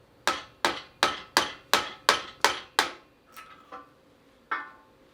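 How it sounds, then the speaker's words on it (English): A screwdriver is hammered to drive a shaft seal out of a power steering pump housing: eight sharp, evenly spaced metallic taps, then a few softer knocks and one last tap, close and clear with no talk. "Use a screwdriver or some other suitable tool to drive that seal out, like so."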